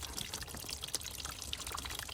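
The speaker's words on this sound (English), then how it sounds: "we finally got the coolant coming out" Car engine coolant running out of a drain into a catch container, a steady soft trickle and pour with faint drips, fairly quiet and close, no talking.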